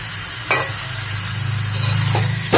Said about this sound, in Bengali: জাস্ট 1-2 মিনিটের জন্য আমরা একটু তেলের মধ্যে সটেট করে নেব